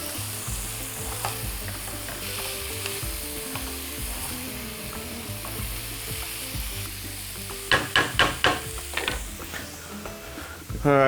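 Continuous sizzle of buckwheat frying in mushroom sauce with beef ribs, with repeated scraping stirs, a short burst of quick clicking strokes near the end, close and steady.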